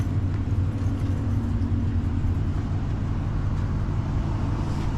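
A car engine idles roughly in a steady, low, droning rumble that carries on without pause for several seconds.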